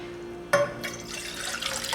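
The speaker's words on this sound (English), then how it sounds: "So I'm going to start by putting 2 cups of water in here" Water runs into a cooking pot, starting abruptly with a splash and then continuing as a steady close pour, with no talking over it.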